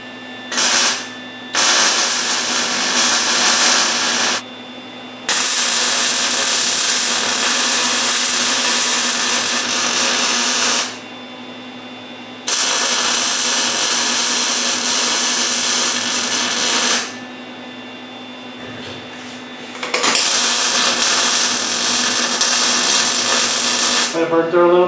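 Grinder working a thick weld on a 1967 Mustang convertible, a loud steady whine in several long bursts separated by short pauses, with a faint hum between passes.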